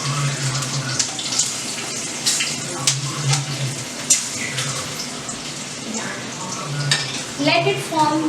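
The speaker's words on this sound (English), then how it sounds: "Now I'm adding on these 2 chilies. Let us fry for some time." Green chilies frying in hot oil in a pan for Hyderabadi mirchi ka salan, a steady close sizzle with a few stirring scrapes and no talk.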